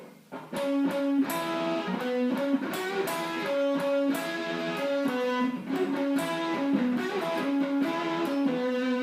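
Sustained distorted electric guitar solo with bent, held notes over a steady backing, loud and continuous throughout.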